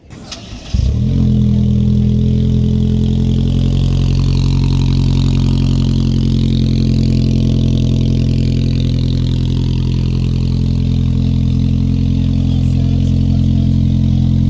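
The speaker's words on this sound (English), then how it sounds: "let's go start the Tacoma up" A Toyota Tacoma pickup engine with a Carven exhaust cranks and catches, then settles into a loud, deep, steady exhaust rumble that holds close by for the rest of the stretch.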